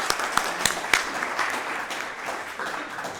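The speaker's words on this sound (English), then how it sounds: "Let's give them a round of applause." Audience applause at a Rotary Club meeting, a dense burst of many hands clapping in a room, loud at first and gradually thinning out over a few seconds.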